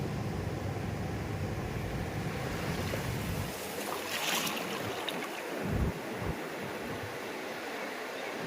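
Sea waves wash ashore at Gopalpur beach in Odisha as fishing boats are readied for launch, with a steady low roar of surf and gusts of wind buffeting the microphone throughout.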